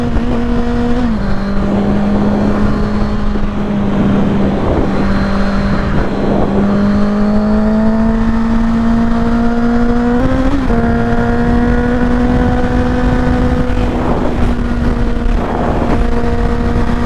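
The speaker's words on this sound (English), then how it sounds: "if you pin the throttle all the way down, this bike will eat your gas" A 2021 Honda CBR650R motorcycle engine droning loud and steady for the whole stretch, its pitch holding level, dipping slightly, then climbing and settling back, with constant wind rush over it and no voices.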